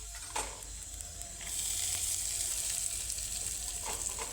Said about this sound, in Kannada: ಧನಿಯಾ, ತೊಗರಿಬೇಳೆ, ಮೆಣಸಿನಕಾಯಿ, ಜೀರಿಗೆ ಎಲ್ಲವನ್ನು ಹಾಕ್ಕೊಂಡು ಹುರ್ಕೊಳ್ತಾ ಇದ್ದೇನೆ.